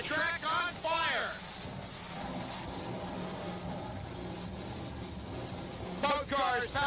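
Jet-powered drag cars with Westinghouse J34 jet engines and afterburners fed raw jet fuel give a loud, steady roar across the drag strip, with commentary heard briefly at the start and end.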